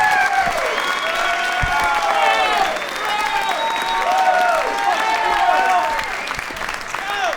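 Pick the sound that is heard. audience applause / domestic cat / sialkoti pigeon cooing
audience applause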